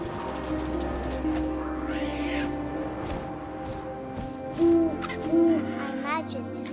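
Owl hooting in What Remains of Edith Finch, two short hoots late in the clip over a steady ambient music bed and faint wind, with a brief bird-like chirp earlier.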